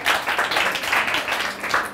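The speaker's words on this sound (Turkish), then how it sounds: "Alkışlayın efendim hanımefendiye." Studio audience applauding a woman guest on a Turkish late-night talk show, a steady, dense wash of clapping that fills the whole stretch at moderate loudness.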